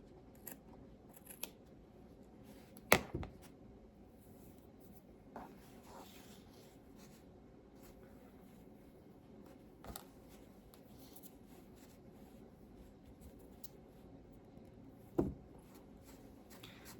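Scissors snipping yarn hair on a handmade rag doll, a few sparse, quiet, crisp cuts spaced several seconds apart over faint rustling.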